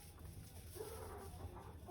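Chickens on a farm, a rooster among hens, clucking softly and steadily against a continuous low background hum, with no talk over it.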